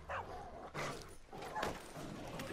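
Dogs barking and yipping in a video game, several short sharp barks at moderate distance, fairly quiet and alone.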